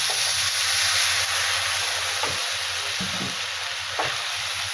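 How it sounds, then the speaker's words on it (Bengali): A sprinkle of water hits a frying pasta dish in a hot pan and sets off a loud, steady, close hissing sizzle, with a few soft stirring knocks and no talking. "হালকা করে একটু জল ছড়িয়ে দেবো"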